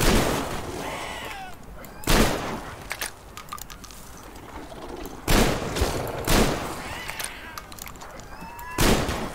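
Shotgun blasts in the video game Metro Exodus, four loud, close booming shots spaced a few seconds apart, with fainter combat noise in between.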